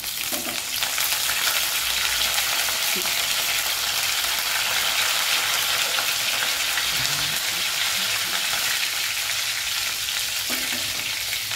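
Mustard seeds, garlic and curry leaves sizzle steadily in hot oil in a pan, a close, dense frying hiss lasting throughout with no talk.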